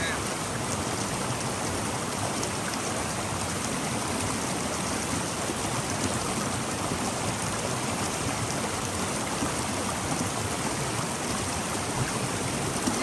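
Steady rain falls on a hiking trail in the Appalachian mountains, a constant broadband hiss of drops with no pauses, moderately quiet and even across the whole stretch.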